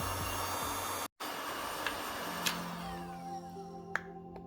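A heat gun warming a car body dent during a budget Amazon dent repair kit test, blowing a steady, close hiss of air with a few small clicks, no voices.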